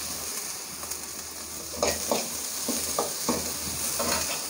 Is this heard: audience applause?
no